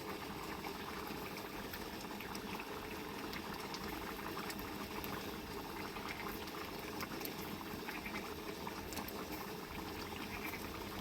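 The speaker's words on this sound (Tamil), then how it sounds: "முட்டை கிரேவி செம்மையாக கொதிச்சிட்டு இருக்கோம்." Egg gravy curry bubbling steadily in a pot, a continuous close simmering hiss and gurgle with no talk over it.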